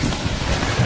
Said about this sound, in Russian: а ветер сегодня сильный